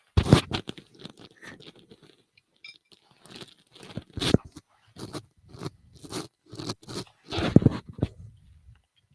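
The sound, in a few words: chewing gum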